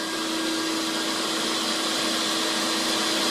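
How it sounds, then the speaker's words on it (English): A refurbished Marvel V110A automatic bandsaw runs its first cut, giving off a loud, unbroken mechanical drone and whine that holds steady throughout, close by and with no talking. "the machine is going to make its first cut"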